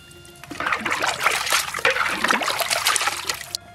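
Rabbit fat poured into a large pot of donkey leg braise with soy sauce and rice wine, a close, liquid trickle and splatter lasting about three seconds, with no talk.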